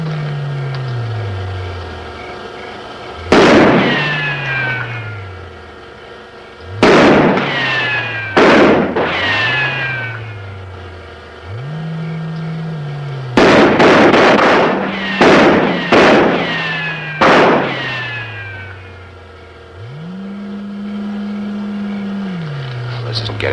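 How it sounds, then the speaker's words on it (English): Gunfire from soldiers in a 1957 science-fiction film, with several sharp loud shots in irregular bursts, some close together, over a low rumbling soundtrack with tones and voices. "Fire a few rounds."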